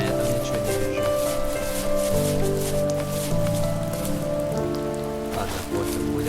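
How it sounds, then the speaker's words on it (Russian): Heavy rain falls in the video game The First Tree, a dense, steady patter on surfaces that continues throughout, with gentle musical tones running underneath. "То, что дождь херачит, я это понял."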